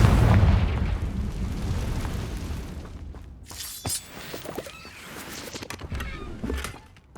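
The Confringo blasting spell erupts in Hogwarts Legacy, a loud fiery burst with shattering debris that rumbles and gradually dies away, followed by scattered smaller crackles and thuds.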